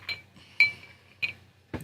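A big ice cube knocking against a whiskey glass: three or four crisp, close glassy clinks spaced irregularly, with a faint low background hum and no voices.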